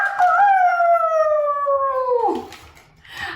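A person imitates a rooster crowing with one long, loud, sustained call that slides downward. A short breathy tail follows, then a faint sound afterward.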